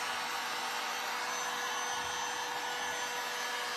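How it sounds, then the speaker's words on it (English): A heat gun blows over salt wash on a metal tin wall shelf, a steady loud rushing whoosh with no breaks, close and alone. "when you take your heat gun to something that's metal, it heats that tin up"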